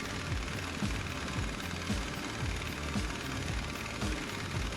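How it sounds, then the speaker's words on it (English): Air impact wrench hammering on a 15/16 nut on a C3 Corvette trailing arm, a steady rapid rattling chatter that runs continuously at moderate level. "I'm really putting the impact on there, the air impact"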